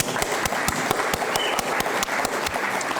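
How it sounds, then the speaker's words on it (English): Audience applause at a university Hall of Fame celebration dinner, a steady wash of many hands clapping with a few sharp, distinct claps standing out, moderately loud and sustained without talk. "Let's hear applause."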